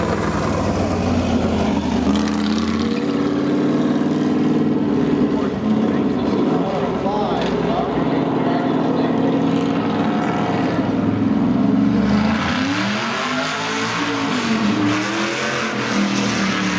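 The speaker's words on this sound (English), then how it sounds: "This is the 1963 Shelby Cobra owned by Bruce Larson." A 1963 Shelby Cobra races around a track at a fall car meet in Hershey, Pennsylvania, its loud V8 roaring continuously up close, rising and falling through gear changes and pitch swings as it passes.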